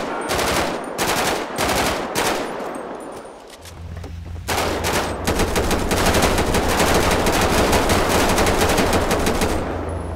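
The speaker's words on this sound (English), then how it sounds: "He's shooting." Video game gunfire rattles in rapid automatic bursts, loud and close. A brief lull near the middle gives way to a long, sustained stream of shots over a low rumble.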